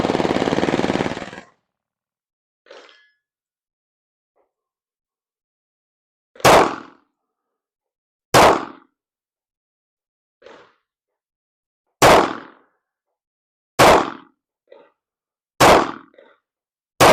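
Shots from an Apollo 11 Compact: seven sharp, loud cracks fired one at a time, roughly two seconds apart, each ringing briefly into near silence, after a short burst of noise at the start.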